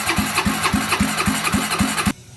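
A Honda Rancher ATV running without its exhaust idles loudly with a steady, rapid thumping pulse, close by, then cuts off abruptly.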